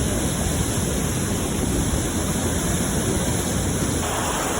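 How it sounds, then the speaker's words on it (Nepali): Rain pours steadily at Sundarijal as a dense, unbroken hiss of falling water, loud and even throughout, with no voices. "गाइस, चाहिँ पानी परिरहेको छ सुन्दरीजलमा।"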